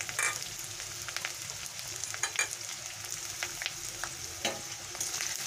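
Chopped onion sizzling and frying in hot oil with whole black peppercorns for an egg korma, a steady bright crackle with occasional sharper pops and stirring scrapes, close and without speech.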